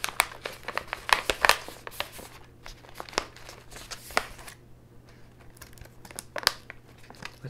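A crinkly plastic tea packaging bag being handled and opened, with sharp irregular crackles and crinkles in close bursts, quieter toward the middle and flaring again near the end.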